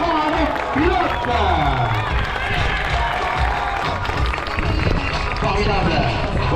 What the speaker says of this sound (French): on va leur donner un tonnerre d'applaudissements avec pilote